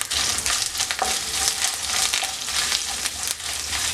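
Coconut pieces frying in hot oil with mustard seeds and curry leaves for a soya chunks roast, a busy crackling sizzle close up with stirring clatter throughout.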